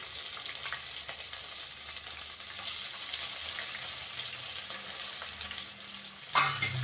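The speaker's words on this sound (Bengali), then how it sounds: "পরে আমি পেঁয়াজটাকেও দিয়ে দেবো।" Onion frying in a pan with dried chillies, a soft continuous sizzle and crackle at low level, ending with a louder clatter.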